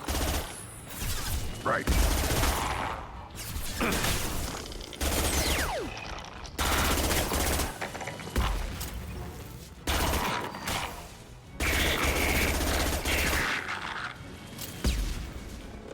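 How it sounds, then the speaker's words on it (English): Sustained gunfire bursts in the Mass Effect 2 video game, loud rattling volleys separated by short gaps, with game voice lines over the combat. "Taking heavy fire"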